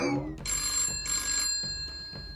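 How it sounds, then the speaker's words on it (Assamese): Telephone bell ringing in an Assamese cartoon comedy, two or three bursts of bright electronic ring separated by short gaps, close and clear with no talk over it. "তেতিয়াৰ পৰা ফোন আহি আছে ৰিচিভ নকৰা কিয়া"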